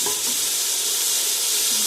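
Aloo matar pulao masala sizzling and being stirred in a pan as it fries, a steady close hiss of hot oil with soft stirring scrapes and no talk.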